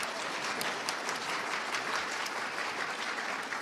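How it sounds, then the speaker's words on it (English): Audience at a gubernatorial debate in Oklahoma applauds steadily for several seconds, a dense even patter of many hands at moderate distance with no voices on top. "Give them a round of applause"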